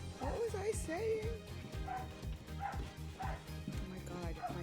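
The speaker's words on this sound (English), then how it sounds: "Oh my god, my dog is very loud." A pet dog barking and yipping loudly indoors in repeated bursts with whimpering tones, over a steady background hum, while a person talks nearby.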